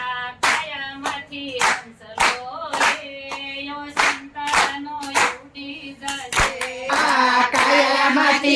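Rhythmic hand clapping by a kirtan group from Bhavnagar, sharp regular claps falling on the beat in a steady pattern while voices sing devotional lines between them, close and clear.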